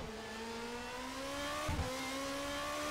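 A GP2 race car engine revs up as the pit limiter is lifted, its loud harmonic whine climbing steadily in pitch over a constant roar, with a brief thump near the middle.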